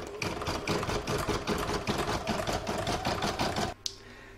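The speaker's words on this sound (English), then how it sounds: "now I'm going to pop it back into my machine and stitch round number four" A sewing machine stitches an appliqué seashell in a rapid, steady mechanical chatter for several seconds, then stops abruptly with a small click, close and clear.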